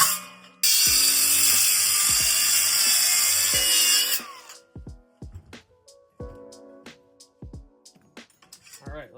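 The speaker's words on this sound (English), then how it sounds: "I'm gonna use my angle grinder here. I'm just gonna follow these lines, cut it out" An angle grinder cuts a marked sheet-metal piece for a 1960s Ford F100 truck cab, a loud steady high whine for about four seconds, then scattered metallic clinks and taps.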